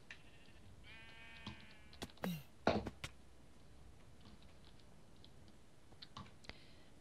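Sheep bleat in Minecraft, a wavering nasal bleat followed by a few sharp clicks and thuds from the game, fairly quiet over a faint steady background hiss.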